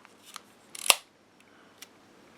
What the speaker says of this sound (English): we're going to show you the action of the shutter now.